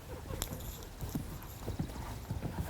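Horse hooves clip-clop in a steady, rhythmic beat in a riding arena, close and clear, with a faint voice in the background and a brief louder thump at the end.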